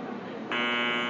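Timer buzzer on a bread baking machine at a bakery trade fair sounds a steady, loud electronic buzz that starts halfway through and holds to the end over a busy hall background.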